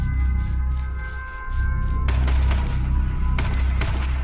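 Gunfire in a first-person shooter game striking the player, a dense burst of sharp close impacts and shots over a steady low rumble, with more cracks spaced through the second half.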